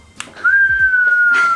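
A Japanese whistle candy blown like a whistle gives one steady, sustained whistling tone, close and fairly loud, lasting about a second, with brief handling and breath noise around it.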